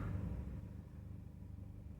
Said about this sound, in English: That is a perfect, consistent idle.